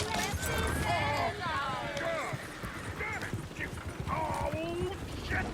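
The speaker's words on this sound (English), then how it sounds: "Oh, shit, the horses! Damn horses!" Horses clip-clop and whinny in the Red Dead Redemption 2 video game, with steady rapid hoofbeats and several neighs over a busy game soundscape while people talk.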